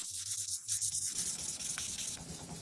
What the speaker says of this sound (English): manual hand sanding is so crucial here